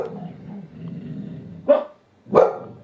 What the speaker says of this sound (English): What part of no barking did you guys not understand?